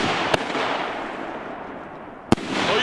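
Shells from a 2-inch Gaoo firework launcher burst high overhead, two sharp distant pops spaced about two seconds apart over a continuous crackling hiss of burning effects.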